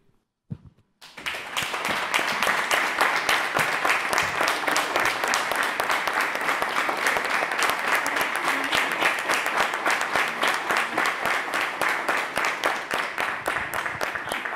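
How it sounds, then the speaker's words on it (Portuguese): Applause fills a city council chamber as Débora stands to be recognized. After a brief pause, a sustained, even roar of many hands clapping carries through to the end, close and full. "peço a Débora que fique em pé para que receba os aplausos dessa Câmara Municipal"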